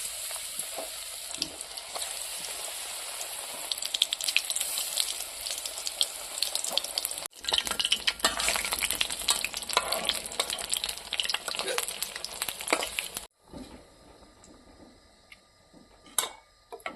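Besan-coated eggplant slices (beguni) fry in hot white oil in a kadai, giving a dense, continuous crackling sizzle that drops away sharply near the end, leaving faint sparse pops and a couple of clinks.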